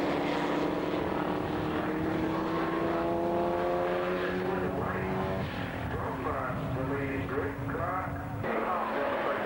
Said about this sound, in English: Started the third lap and it's still Jeremy Clark with a clear lead